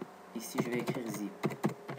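Keys on a computer keyboard clatter in short irregular bursts during a C# Windows Forms coding session, close and fairly quiet, while someone speaks over the typing.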